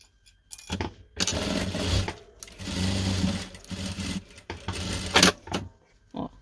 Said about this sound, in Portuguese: E passo outra costura em cima da primeira